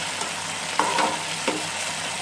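Boiled green chili paste frying in a pan, a soft, steady sizzle with a few brief stirring scrapes, close and fairly quiet.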